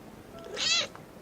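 A cat gives a single short meow, clear and fairly close, rising then fading within about a second, with no talking.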